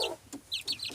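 A hen clucks after laying an egg, several short close clucks in quick succession, fairly faint.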